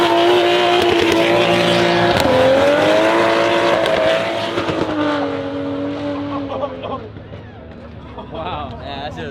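Cars leave a car show one after another, engines revving loudly and close, with a rising and falling drone that fades slightly toward the end; people talk over the engine noise.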